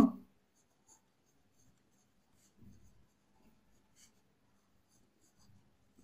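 Pen or chalk writing out numbers during a Class 7 math lesson, a faint, sparse scratching with short soft strokes and small taps in a quiet room.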